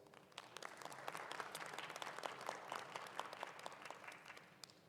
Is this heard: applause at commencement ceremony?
yes